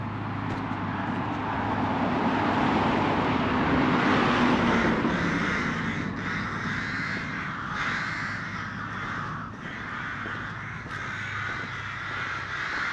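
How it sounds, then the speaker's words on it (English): Crows cawing repeatedly at a roadside bus stop near Chichester in Sussex, loud and fairly close, over a steady wash of road traffic. "Noisy bus stop back to Chichester with those crows"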